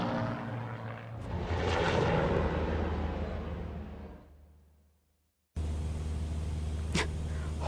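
Propeller airplane engine in a horror video game swells to a loud, sustained drone, then fades away to silence before a steady low hum and a brief sharp whoosh take over.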